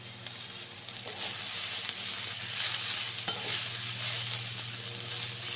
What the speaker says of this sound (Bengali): কিছুক্ষণ ধরে কিন্তু ভাজা করে নিতে হবে।